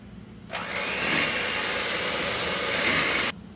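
An electric mixer whirs through wet cake batter for a purple velvet cake, switching on abruptly and running at a steady, loud, close whine for about three seconds before cutting off.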